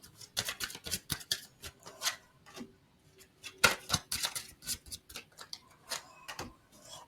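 Tarot cards are shuffled by hand with quick, irregular papery flicks, snaps and riffles at close range, soft overall and with no talking.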